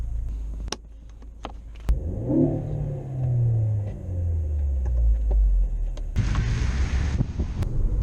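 A Ford Focus ST fitted with a Quaife limited-slip differential pulls away, its engine rumble climbing through rising revs and a gear change, heard from inside the moving car with some wind buffeting near the end.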